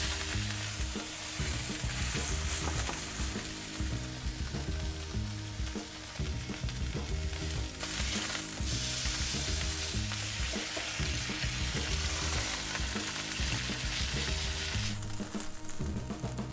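Red meat sears in a hot pan during its second cooking toward a rare-to-medium-rare finish, giving a steady, dense sizzle and crackle of frying that runs continuously without any voices.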